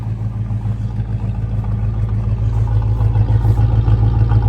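A 1985 Chevy Suburban C20's engine idles slightly high, a steady low rumble heard close and loud for several seconds with no talk over it.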